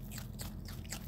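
A dog chewing plants with a crunchy sound, a few crisp bites and squishy munches in quick succession close by, with no talking.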